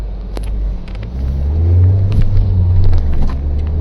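Mahindra XUV 700 engine revving hard under load during a pull test, a loud, close, deep rumble that swells and holds steady with faint clicks and knocks on top, no voices.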